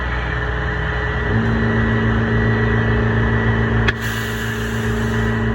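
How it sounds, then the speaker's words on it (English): A semi truck in freezing weather creeps forward, its steady diesel engine droning close by with a constant low rumble and a slight shift in tone as it starts to move. "Advance the truck a little bit."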